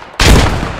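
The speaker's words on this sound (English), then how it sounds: "It's a grease gun." A single loud, close burst of M3 grease gun submachine gun fire in the World War II game Post Scriptum, a sudden blast that decays over under a second.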